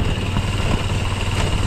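A motor vehicle engine revs and runs on steadily in cold, rainy weather, a loud close drone that holds without break and with no talk over it.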